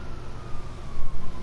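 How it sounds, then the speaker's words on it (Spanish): A police siren in Grand Theft Auto V wails steadily in the distance under a constant rumble of engine noise. "Se escuchan sirenas de policía"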